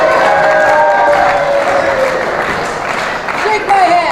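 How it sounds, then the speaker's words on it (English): Wrestling crowd at a Great North Wrestling women's match applauding and cheering, a steady dense wash of clapping and voices throughout, with a commentator talking over it. "Still gets the crowd going."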